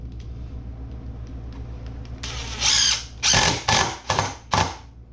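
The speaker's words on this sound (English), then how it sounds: "I'm going to run these screws in it" A power drill drives Spax screws into wood in several short loud whirring bursts, close and with brief pauses between them, after a quiet start.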